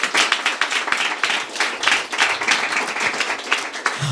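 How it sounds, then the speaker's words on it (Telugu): Congregation at a Sunday church service clapping together in a rhythmic, fairly loud burst of hands close by, with no talk over it. "ఒకసారి చప్పట్లు కొడతారా?"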